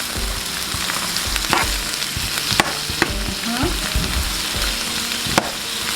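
A spoon stirs seasoning in a hot pot for brown stewed fish, giving a steady sizzling hiss broken by occasional sharp metallic scrapes and clinks, close and fairly loud.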